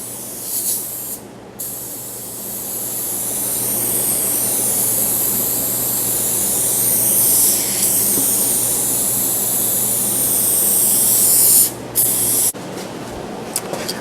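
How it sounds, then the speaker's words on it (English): Elmer's spray adhesive hisses steadily from an aerosol can for over ten seconds, a loud continuous spray with brief pauses near the start and end, close to the mic, applied while building a practice craps rig. "I'm just going to spray this on and give it a go"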